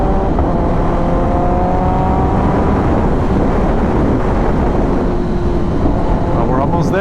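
A 2025 Kawasaki ZX10R motorcycle under throttle while riding, its engine drone steady and loud beneath heavy wind rush, with faint rising tones as revs change.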